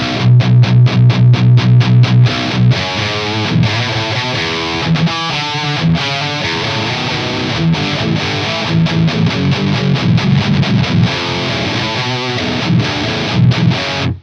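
Electric guitar with a gritty distorted tone, boosted by a clean boost pedal and played through a Mesa 4x12 cabinet, plays a riff of chugging low chords and brighter single notes, steady and loud throughout.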